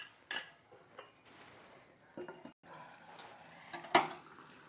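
A lid goes onto a cooking pot of paneer korma with a few quiet metallic clinks and knocks, ending in one sharper clank, in an otherwise quiet kitchen.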